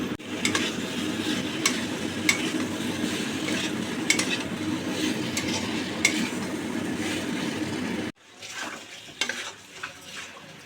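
Soybean chunks and fried potatoes are stir-fried in a pan with a continuous sizzle and scraping stirs, then the sound cuts off abruptly and quieter, sparser pan noises follow.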